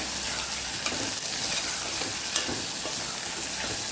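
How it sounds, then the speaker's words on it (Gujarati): Turmeric sizzles in hot oil for a cabbage and potato curry made with garlic and onion, giving a steady, close hissing fry with faint stirring scrapes and no talking. "એને પણ સરસ આપણે મિક્સ કરીને સાતળી લેવાનું છે"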